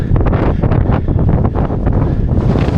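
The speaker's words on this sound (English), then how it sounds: "it's about a 40-mile-an-hour gale blowing the other side" Strong gusting wind of about 40 mph batters the microphone on an open hillside walk near Shipley Glen, a loud continuous roar with rough buffeting bursts throughout.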